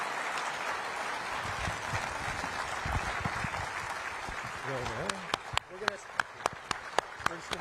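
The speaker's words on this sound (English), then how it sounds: "Please give a round of applause for the Director of the FBI and Deputy Attorney General Blanche." Audience applause at an FBI Director's public remarks in Fort Lauderdale, a steady wash of many hands that thins into a few scattered, separate claps near the end.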